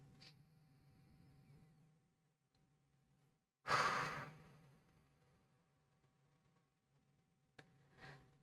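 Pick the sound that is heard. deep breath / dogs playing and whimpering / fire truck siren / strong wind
deep breath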